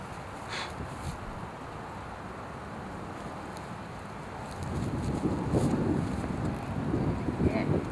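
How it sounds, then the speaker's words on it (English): Wind gusting across an open park during a disc golf tournament, a steady rushing noise that swells noticeably louder and rougher partway through. "Hear that wind picking up."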